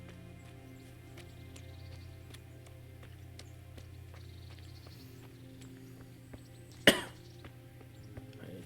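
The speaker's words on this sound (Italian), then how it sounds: "tosse." One short, sharp cough rings out over a faint, steady ambient hum in the medieval setting of Kingdom Come: Deliverance, with a few soft clicks on either side of it.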